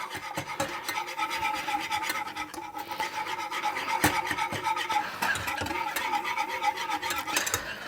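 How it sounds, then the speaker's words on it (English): A whisk scrapes steadily and rhythmically around a pan of milk heating with flour for a basic white gravy, making a continuous close rasping swish with no voices. "Now I shall whisk to ensure the flour is smoothly in my milk."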